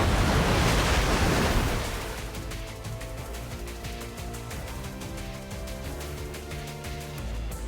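Rushing water waves surge in the NIKKE: Goddess of Victory game, a loud broad wash that swells for the first couple of seconds and then settles to a lower churning flow.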